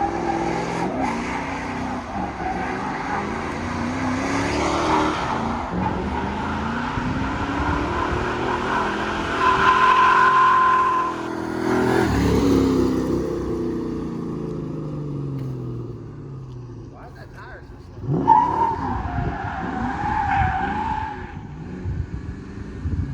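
Drift-prepped Ford Mustang cutting donuts, engine revving and tires squealing in long sweeping bursts at moderate distance, with rising and falling pitch and a brief lull before another squealing surge.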